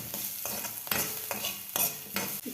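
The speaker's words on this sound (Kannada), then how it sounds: "ಈರುಳ್ಳಿ, ಕರಿಬೇವು, ಕೊತ್ತಂಬರಿ ಎಲ್ಲ ಸೇರಿ ಹಾಕ್ತಾಯಿದ್ದೀನಿ. ಇದೆಲ್ಲ ಸ್ವಲ್ಪ ಎಣ್ಣೆಯಲ್ಲಿ ಫ್ರೈ ಮಾಡ್ತಾರೆ." Onion, curry leaves and coriander fry in a little oil, a crackling sizzle broken by a few sharp stirring scrapes of a spoon against the pan, close and unaccompanied by speech.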